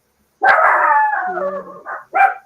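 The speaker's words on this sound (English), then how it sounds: "Now they both are sounding off." A dog howls in a long, wavering, pitch-sliding cry up close, followed by two short barks, with no one talking.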